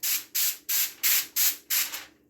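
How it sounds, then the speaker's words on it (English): Cooking spray is released onto a sheet of aluminium foil covering a lasagna, in six short, even hissing bursts with brief gaps between them. The bursts are close and fairly loud, and nobody talks. "what I'm gonna do with my foil now is I'm just gonna spray it a little bit"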